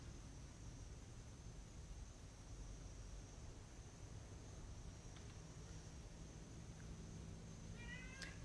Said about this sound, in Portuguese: eu vou resgatar minha gatinha que estava desaparecida e já volto